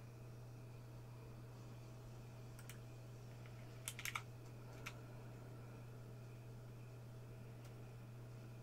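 A regular computer keyboard is typed on in a short burst of faint, quick key clicks midway, over a steady low electrical hum with a few isolated taps afterward.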